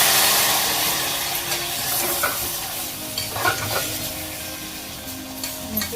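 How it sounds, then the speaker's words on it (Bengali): Spice paste with a splash of water frying in a pan for pumpkin curry, a steady loud hiss and sizzle with occasional stirring scrapes, close up. "এবারে একটু জল দিয়ে মশলাটাকে কাটিয়ে নেব।"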